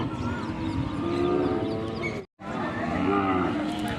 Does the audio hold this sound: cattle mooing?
yes